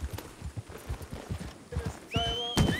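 A horse in a Red Dead roleplay game gallops with a steady rhythmic drum of hoofbeats, then lets out a loud, close whinny near the end.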